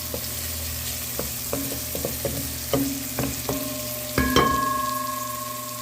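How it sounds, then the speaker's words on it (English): Onions frying in a pan for Trinidad-style curry chicken, a steady close sizzle with scattered sharp clicks and knocks of a utensil against the pan and a brief louder clatter near the end; no talking. "allow the onions to become translucent before I add the curry in here"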